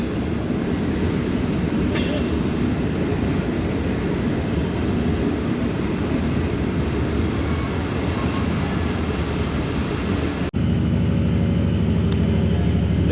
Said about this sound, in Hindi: 2 मिनट स्टॉप करने के बाद ओकाड़ा रेलवे स्टेशन से डिपार्चर हो गया 7 अप तेज़गाम का।